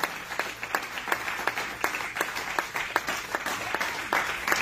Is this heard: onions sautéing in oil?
no